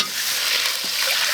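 Chili peppers hitting a hot wok and frying, a steady close, bright hiss of sizzling oil with faint stirring scrapes, continuous for just over a second with no voices.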